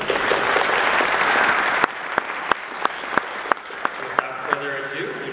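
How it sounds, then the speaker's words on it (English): Audience applause at an orchestra concert of Beethoven's Sixth Symphony, dense clapping from a crowd that thins into scattered individual claps and fades out. "One more round of applause for him, please."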